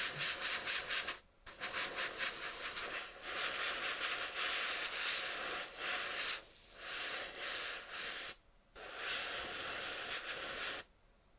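Airbrush spraying a light coat of VMS primer, a steady close hiss in long bursts broken by short silent pauses between passes, with no talk.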